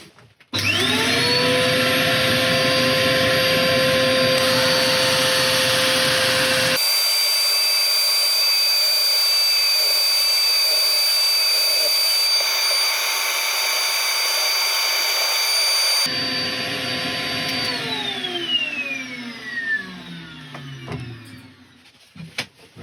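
A steady, loud electric power sander whines continuously against wood, its pitch shifting partway through, then spins down and fades out near the end.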